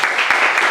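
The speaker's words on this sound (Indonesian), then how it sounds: "Tepuk tangan dulu buat Polimin, ya" Audience applause at a sweet seventeen celebration, a brief burst of dense, steady clapping from a crowd heard close and fairly loud.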